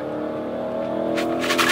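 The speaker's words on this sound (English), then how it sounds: "That car's so loud." A loud car drives past outside a restaurant, its engine building to a steady roar and swelling near the end of the clip.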